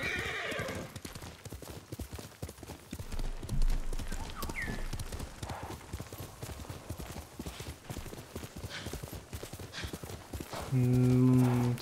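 Horse hooves clip-clopping in a video game, a steady rhythmic trot running throughout alongside whinnies, with game sounds layered around it.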